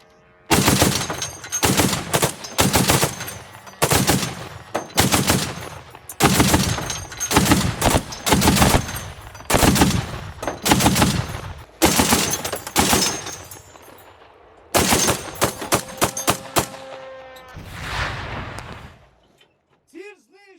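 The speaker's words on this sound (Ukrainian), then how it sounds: "Бачу ціль, постріл! Постріл!" Heavy automatic anti-aircraft gunfire from an air-defence unit in repeated loud bursts, each rapid string of shots separated by brief pauses, ending with a fading rumble.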